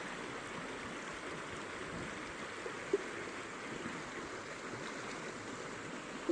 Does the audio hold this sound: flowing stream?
yes